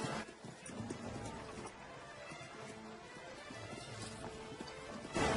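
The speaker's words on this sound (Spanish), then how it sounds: "Un caballo puede llevar a 2 hombres armados a la máxima velocidad" Horses carrying two armed men each in a late-17th-century army march, hooves clip-clopping in a steady busy rhythm under a dense wash of movement and battle noise throughout.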